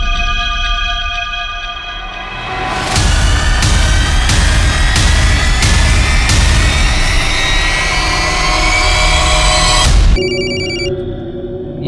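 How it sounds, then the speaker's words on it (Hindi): A telephone rings repeatedly, bright trilling bursts in a steady rapid rhythm, loud and close over a low rumbling background for most of the stretch. "ये कौन फोन कर रहा है बार बार?"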